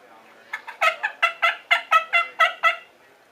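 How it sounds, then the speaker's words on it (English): Turkey hen giving a sharp warning call: about ten rapid, evenly spaced loud clucking yelps in quick succession, close and clear with no talking. "usually that's a hen giving a warning call"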